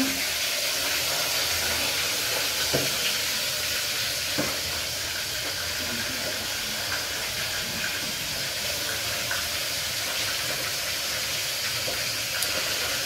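Fish sizzling steadily in hot oil in an uncovered pan, a continuous close crackle and hiss with small pops and occasional utensil taps, no one talking.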